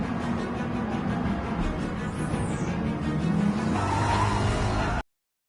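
Race cars on a track in the Gran Turismo Sport video game, a continuous loud engine roar with tire noise and a brief whooshing pass, ending abruptly.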